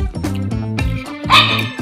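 A dog barks and yips repeatedly, begging for food in a home kitchen, with sharp close barks in a quick irregular series and a whiny edge, heard clearly on its own.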